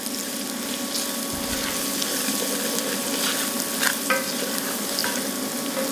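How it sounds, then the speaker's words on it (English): Thai chilies stirred around a hot pan for General Tso's chicken, sizzling steadily in oil with a continuous close frying hiss and occasional light scraping. "just gonna give these a quick little spin around the old pan"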